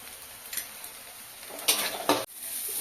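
Turmeric, chili powder and cumin powder cooked in a pan for a fish curry, heard as a faint steady sizzle broken by a few sharper hissing bursts and spatula scrapes, close with no voices.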